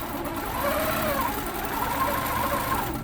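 A longarm quilting machine stitching a hexagon quilt design runs in a fast, steady, mechanical hum with rapid needle rhythm, close and continuous throughout.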